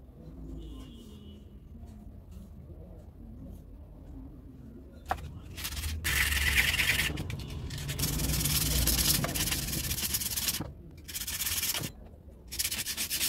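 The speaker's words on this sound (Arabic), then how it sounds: "فاحنا هنصنفر كل دوت وننضفه عشان الروتر يبقى حر جوه الملف اللي هو الاستوتر" Sandpaper scrubs away melted varnish inside the stator coil of a one-horsepower water pump motor, in bursts of loud, close scratching rubs separated by short pauses.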